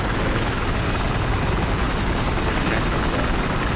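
Transport helicopter in the Battlefield 4 video game flying overhead, a loud, steady broadband rotor and engine roar that fills the whole stretch without letup, no voices over it.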